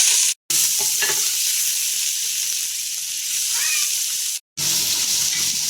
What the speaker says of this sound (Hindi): मैं प्याज को लाइट गोल्डन होने तक फ्राई करूँगी।